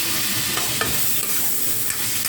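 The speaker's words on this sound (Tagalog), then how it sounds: "So lagyan ko na siya ng kamatis." Chopped tomatoes sizzle and crackle steadily in a hot pan over sautéed garlic and onion for chicken afritada, with a loud continuous frying hiss and a few soft stirring scrapes, and no voices.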